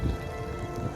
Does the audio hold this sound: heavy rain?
yes